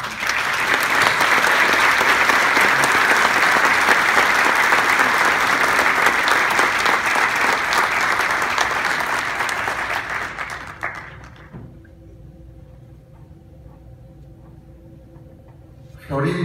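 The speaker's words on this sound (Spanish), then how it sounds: "la señora Florinda González de Pérez, para quien pido un fuerte aplauso." An audience at a civic recognition ceremony breaks into loud, sustained applause for about eleven seconds, then it fades out, leaving quiet room tone and a voice.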